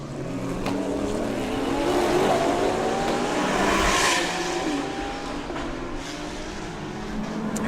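GT racing cars such as GR Supras and a Honda NSX GT3 lap the Bangsaen Grand Prix street circuit, engines droning steadily and swelling mid-way as cars pass, with faint tire noise throughout.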